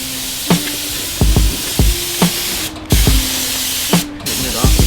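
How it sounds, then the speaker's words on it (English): A can of compressed air sprays in short hissing bursts to clean a heat press workspace, several sharp close blasts with pauses between, alongside clicks and thumps. "Hitting it off with the air in the can."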